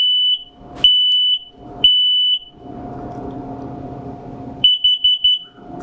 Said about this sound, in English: Four quick beeps is an indication alarming you that the carbon monoxide portion of this detector has activated.